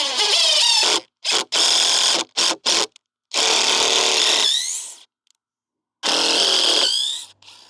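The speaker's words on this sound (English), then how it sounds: "I'm gonna get some pilot holes drilled, and then get ready to place it in position." A power drill bores pilot holes for mounting a solar LED street light, several loud whirring bursts of varying length with short pauses between, the motor pitch sweeping at the ends, close and with no talking.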